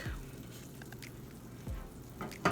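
Garlic hitting melted butter in a pan for chicken Alfredo, a faint steady sizzle running throughout with a couple of soft bumps from stirring or added pieces.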